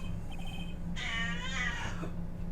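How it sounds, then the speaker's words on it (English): A pet cat meows close to the microphone, giving one drawn-out, wavering meow in the middle over a low steady background hum. "She likes to purr and meow and everything right there next to it."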